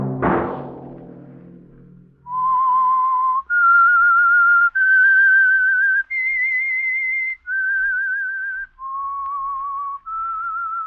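Whistled theme signal for The Whistler radio mystery program: a single clear whistler carries a slow melody of seven sustained, steady notes, loud and alone after a brief opening burst of sound.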